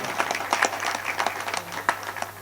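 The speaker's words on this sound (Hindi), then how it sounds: "आपकी ताली आना चाहिए दोस्तों," Audience at a Hindi kavi sammelan poetry recital clapping in scattered, uneven bursts, moderately distant and fairly quiet, with a faint voice in the background.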